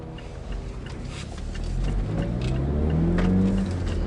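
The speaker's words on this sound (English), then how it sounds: "Why is there so much traffic right now?" Moderately quiet engine hum from passing traffic that swells gradually, with a vehicle drawing nearer and growing louder toward the end.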